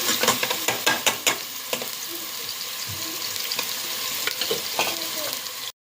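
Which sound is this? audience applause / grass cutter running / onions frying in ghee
onions frying in ghee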